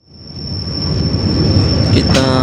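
A commuter train entering Surabaya Gubeng station in Indonesia rumbles steadily with rising noise as metal wheels squeal sharply near the end, a close, loud approach with no talking.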